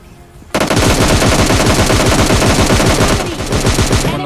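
Sustained automatic gunfire bursts out suddenly in PUBG Mobile Lite, a loud, rapid stream of shots that runs for several seconds before easing slightly near the end. No one talks.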